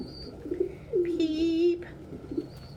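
A pigeon gives a single drawn-out low coo up close, with a squeaky high peep over it and faint shorter coos before and after.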